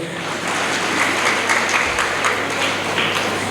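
An audience at a Kannada spiritual discourse breaks into steady applause, a dense wash of clapping that holds evenly for a few seconds.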